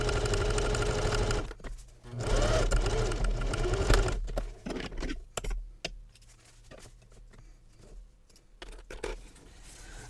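A domestic sewing machine stitches the fabric lining of a travel belt, running in loud, continuous whirring bursts up close and then stopping, followed by quieter handling clicks and rustles.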